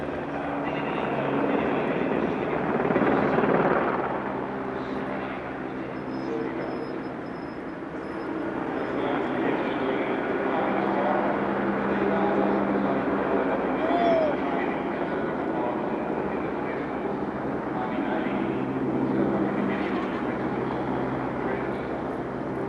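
An Écureuil helicopter performs a display at an RAAF anniversary airshow, its rotor and engine drone steady and fairly distant. A commentator talks over it throughout.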